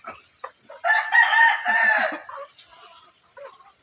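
A rooster crows once loudly and close by, a drawn-out call of about a second and a half, framed by softer clucks and farmyard chatter before and after.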